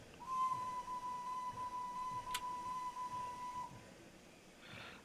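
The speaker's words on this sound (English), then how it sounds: "I'll try the baseball whistle first." A squeaky baseball whistle on a model steam locomotive sounds one thin, steady, high note for about three seconds, faint against a soft hiss with a brief click midway.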